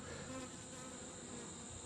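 Late-season split colony of honeybees buzzing on a hive frame, a steady dense drone that holds for the whole two seconds without a break and with no voices.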